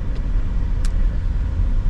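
Steady low road rumble from inside a moving car on a morning drive to the office in Kemer, Turkey, an even cabin drone with a couple of faint brief ticks.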